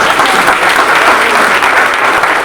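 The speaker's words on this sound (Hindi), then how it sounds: "एक बार जोरदार तालियां भारत जी के लिए।" A crowded hall audience applauds a speaker at a Reservation Day gathering, a dense, steady wash of many hands clapping at close range, loud and continuous throughout with no voices standing out.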